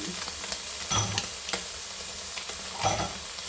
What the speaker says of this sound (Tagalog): lalagay na natin ating garlic onion